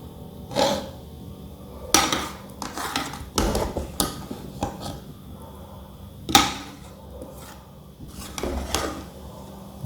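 A serving spoon scrapes and scoops fish biryani made with yellowtail out of a pot. Several loud metallic clinks and scrapes come at irregular intervals, close by, with no talking.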